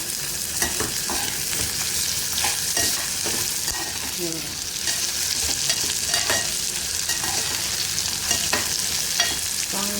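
Chopped onions fry and hiss in a pan while a utensil stirs them with scattered scraping knocks, sizzle close and continuous without any talking.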